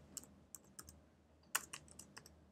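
Scattered keystrokes as code is typed on a computer keyboard, a few soft separate clicks followed by a short quicker burst, quiet and close, with no voice.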